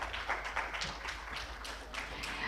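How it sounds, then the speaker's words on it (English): Audience applause welcoming a session chair to the dais at a civil society water management conference, steady scattered clapping filling the whole stretch at moderate level. "give a big applause"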